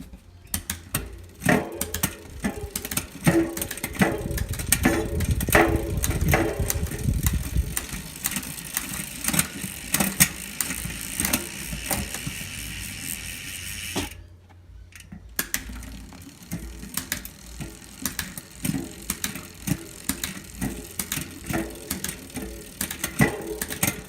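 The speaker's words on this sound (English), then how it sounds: "let's just run it through the gears and see what characteristics you get from that" A bicycle drivetrain run through its gears on a repair stand, giving a steady close whir and ratchet clicking with sharp shift clicks at intervals, and a short pause partway through.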